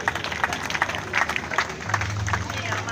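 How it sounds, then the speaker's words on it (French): An audience at a memorial gathering applauds and cheers, a moderate burst of clapping with crowd voices mixed in, rising slightly toward the end. "j'aimerais qu'on acclame pour la présence de tous"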